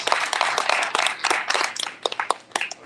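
An audience at a distinguished lecture series gives a round of applause: dense, lively hand clapping from many people indoors, steady with some uneven peaks, tapering slightly toward the end.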